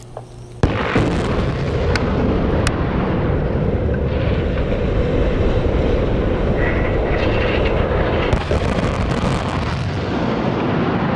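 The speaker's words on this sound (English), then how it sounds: "The explosions were powerful enough to topple a 213-meter tall tower." Powerful demolition explosions bring down a 213-meter-tall tower. A sharp blast opens into a loud, sustained roaring rumble that continues for many seconds with scattered cracks and bangs.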